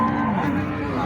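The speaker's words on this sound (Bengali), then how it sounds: "মাশাআল্লাহ, খুব সুন্দর একটা গরু" A red Hasa cow at a cattle market gives a long, low, close moo that fills the whole moment, with faint crowd murmur beneath it.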